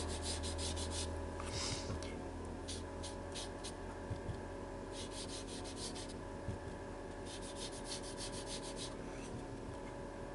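Brush or cloth rubbing down a painted background on paper, a continuous, soft scrubbing texture with short stroke bursts, close but quiet over a steady background hum, with no talking.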